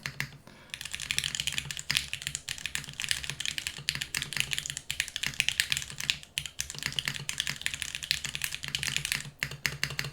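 Rapid, continuous clacking of a mechanical keyboard fitted with PBT keycaps, dense close-up keystrokes with occasional deeper spacebar thocks, steady and loud with no talking.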